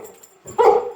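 A dog gives a single short bark or yelp at a robot vacuum cleaner, loud and close, after a faint quieter moment.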